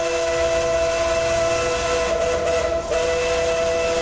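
Steam locomotive three-chime whistle in American Truck Simulator, a loud steady multi-tone blast held for several seconds with a brief dip near the end, over a constant background rumble and no talk.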